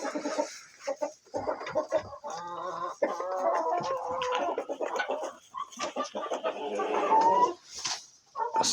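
Hens cluck steadily in a coop, with chicks cheeping nearby and a rooster crowing. The sounds are close and busy, with quieter gaps in between and no talking.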